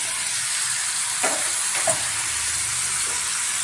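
Chopped tomatoes go into a pan already holding onion, ginger-garlic paste, green chilli and curry leaves, giving a loud, steady sizzle throughout with a couple of brief stirring scrapes.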